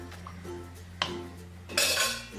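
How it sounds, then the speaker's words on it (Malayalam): A spoon stirs rice and chicken in a pot, giving a few sharp metallic clinks and scrapes against the pot, the loudest near the end. "എല്ലാം കൂട്ടിയിട്ടൊന്ന് ഇളക്കി കൊടുക്കാം."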